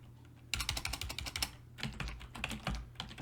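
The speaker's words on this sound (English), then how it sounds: "we can make sure we're typing the right words" Quick, uneven typing on a computer keyboard, close and clear, keys clattering in irregular bursts with a faint steady hum underneath and no talking.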